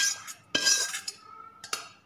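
A metal spoon clinks against a bowl while tempering is mixed into curd rice: a few sharp scrapes and taps, close and fairly faint, with no talk.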